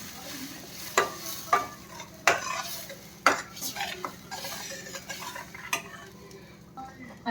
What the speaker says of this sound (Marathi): अशा प्रकारे चांगला व्यवस्थित मसाला हा परतून घ्यायचा आपल्या तेलामध्ये.